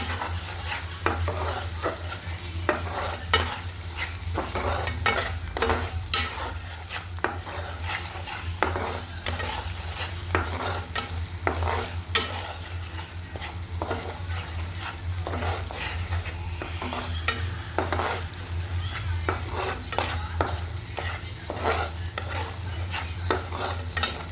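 Spice paste frying on low heat while being stirred, a soft continuous sizzle broken by repeated scraping strokes of a utensil against the pan at a fairly regular pace.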